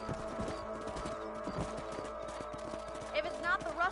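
Horse hooves clip-clop steadily through a Red Dead Redemption game scene, a rapid rhythmic trot heard up close under music and a brief whinny-like sound near the end.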